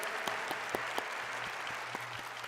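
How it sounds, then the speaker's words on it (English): Audience applause for an interpreter at a Final Fantasy XIV fan festival in Japan, a soft, steady patter of many hands with a few sharper claps, heard at a distance and fairly faint. "Let's all clap for Kate."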